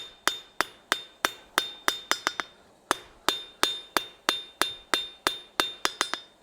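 A hammer planishes a steel bar at black heat on an anvil, a long run of sharp ringing metallic strikes in a steady rhythm with occasional quick doubles, close and clear with no talk.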